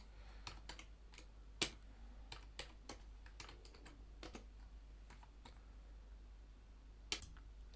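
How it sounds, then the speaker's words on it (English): Someone types a command on a computer keyboard, quiet irregular key clicks with a few sharper taps, steady and close against a low background hum, with no talking. "I'm just going to pause the video while I type in this script"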